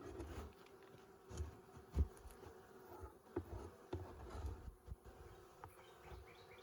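Honeybees buzz around a hive on a cloudy day, a close, uneven hum with individual bees flying past the microphone in brief louder swells.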